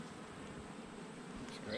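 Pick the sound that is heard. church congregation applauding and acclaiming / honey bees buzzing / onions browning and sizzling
honey bees buzzing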